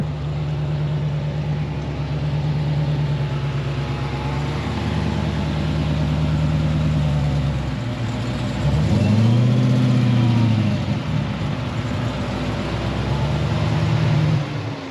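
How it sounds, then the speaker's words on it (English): A Chrysler 300 SRT8 with a 426 stroker engine and a Whipple supercharger, rated at about 900 horsepower, idles with a loud, lumpy burble, then revs sharply around the middle of the clip before settling back, heard close and alone. "We're talking about a 426 stroke Whipple supercharged 900 horsepower Chrysler 300"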